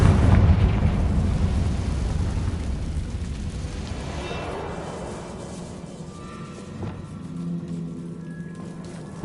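A blasting spell detonates in a Harry Potter video game, opening with a loud, close, broad boom that rolls into a long rumbling decay fading over several seconds, ending with a faint crack.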